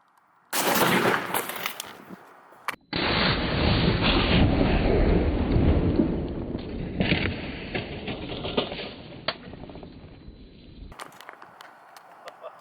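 A car airbag wired to jumper cables detonates under a traffic cone outdoors: a sharp loud bang, then a long roaring rush and clatter that fades over several seconds, ending with people exclaiming.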